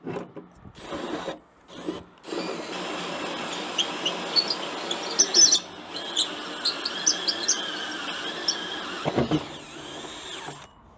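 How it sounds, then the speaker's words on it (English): A power drill bores through the metal roof of a van to make a solar panel cable entry point, a steady grinding whir running for several seconds with brief pauses and stutters, close and fairly loud, trailing off near the end. "I wasn't really pushing hard and just letting the drill do the work"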